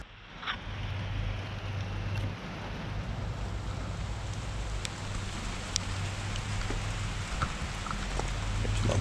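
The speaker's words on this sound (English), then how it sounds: "There's the rain coming across." Evening rain sweeps across a farm, a steady broad hiss of falling drops with a low rumble underneath and occasional sharper drip ticks, gradually building.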